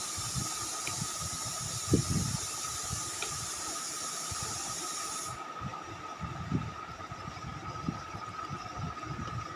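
Rice cooking in a pot lets out a steady, soft hiss of steam with a faint tone running through it. Low bubbling and rumbling sit underneath, and no one speaks.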